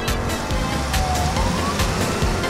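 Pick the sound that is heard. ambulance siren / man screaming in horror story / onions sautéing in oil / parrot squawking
ambulance siren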